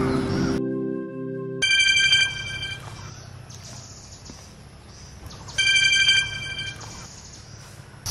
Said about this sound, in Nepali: बेला बेला घन्टी बजिरहन्छ कि, नयाँ नयाँ भएर होला, अलिक धेरै नै बज्दो रहेछ